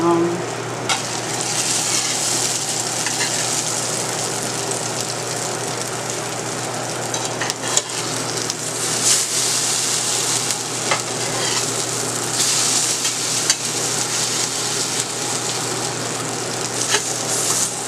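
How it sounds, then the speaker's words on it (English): Corn fritters made from cream style corn frying in hot oil, a dense continuous sizzle and crackle with occasional stirring scrapes, close and steady throughout. "so these are fried corn fritters"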